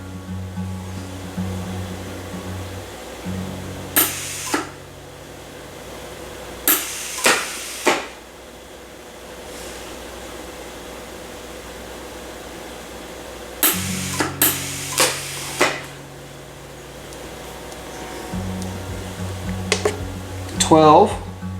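A pulse welder zapping metal, giving short sharp bursts in two clusters separated by a steady hum, with a voice talking between the bursts.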